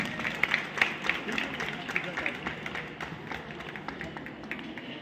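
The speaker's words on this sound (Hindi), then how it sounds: "जोरदार तालियां सभी के लिए।" Audience at a college award ceremony clapping, a dense patter of hands that starts lively and gradually fades, with a voice speaking over it.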